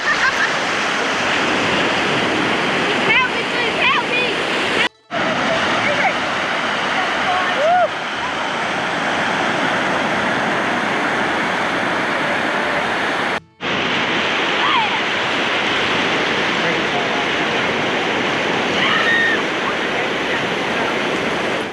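Waves break and surge on a sandy beach on the Fleurieu Peninsula, a continuous broad roar of surf that is loud and close. Two brief dropouts interrupt it, and no voices are heard.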